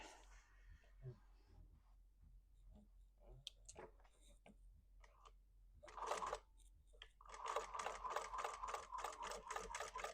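A sewing machine stitches vinyl for a purse, starting with a short burst and then running in a fast, steady mechanical chatter close by, after some quiet handling noises.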